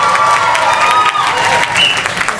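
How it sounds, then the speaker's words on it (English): A live theatre crowd at an improv comedy match claps loudly to vote for a team, a thick, sustained wall of applause with scattered cheers and whistles rising above it. "Applaud much louder for the team you want to get 5 points."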